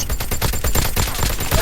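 Rapid automatic gunfire in a shooting video game rattles on without pause, loud and close, in a dense stream of shots with no talking over it.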